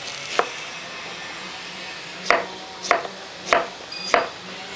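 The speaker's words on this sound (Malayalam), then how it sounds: "ഇതേപോലെ ഒന്ന് അരിഞ്ഞങ്ങോട്ട് എടുക്കുക ഒരേ കനത്തിൽ അങ്ങോട്ട് അരിഞ്ഞെടുക്കുക" Knife chopping raw plantain into even slices on a board: five sharp isolated knocks, one early then four at a steady rhythm, close and clear over quiet background.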